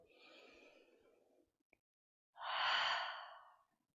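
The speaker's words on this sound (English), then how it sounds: "One more big breath here." Deep breathing during a yoga flow: a soft, drawn-out inhale, a brief pause, then a fuller, louder exhale like a sigh, close and alone without talk.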